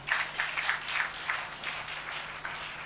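A church congregation applauding together, a steady wash of many hands clapping in irregular surges that swell and fade across the moment, fairly soft and diffuse with no voices standing out.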